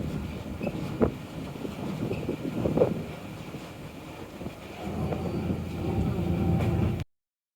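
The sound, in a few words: glass bottom boat's twin Caterpillar C93 diesel engines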